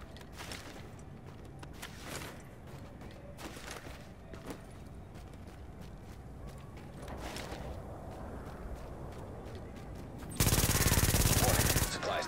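Gunfire in the video game The Division: scattered shots under a dense game soundscape with faint talk, then a loud, sustained burst of fire near the end.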